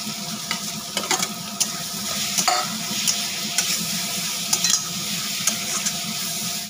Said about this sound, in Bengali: দিয়ে দিলাম ভেজে রাখা আলু